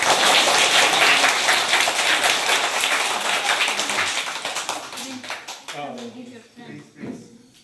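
A group claps loudly together at a children's birthday celebration. The brisk, dense clapping runs for several seconds and then thins out, and voices begin talking as it fades.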